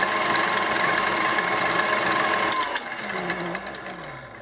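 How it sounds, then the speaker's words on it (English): An electric mixer whips cream for homemade butter with a steady motorised whir and rattle that eases off slightly near the end, close and continuous. "you're just going to want to mix it until it starts to get thick"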